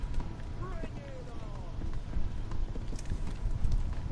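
Horse hooves clip-clop in Kingdom Come: Deliverance, a steady galloping patter under a busy game mix with speech and ambient noise throughout.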